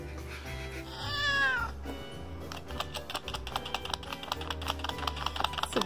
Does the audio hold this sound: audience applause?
no